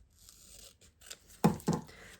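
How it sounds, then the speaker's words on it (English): Scissors snip through card for a papercraft project, a few soft cuts followed by two sharp, close crunching snips in quick succession, with no talking. "Actually, I'm going to cut a bit more off this."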